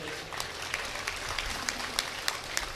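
An audience at a Tamil pattimandram debate breaks into steady, dense applause, with many hands clapping together in a continuous wash of sound.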